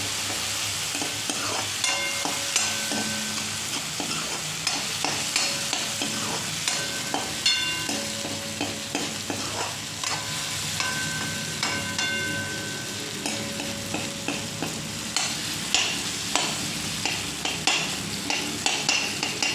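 Onion and tomato masala frying in a pan for dry chhole, stirred with a spoon in a steady rhythm of scraping strokes over a constant loud sizzle, close up with no voices.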